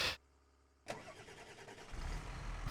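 A tractor engine in Farming Simulator 25 cranks and turns over, then settles into a steady, rising idle that grows louder toward the end, heard alone after a brief silence.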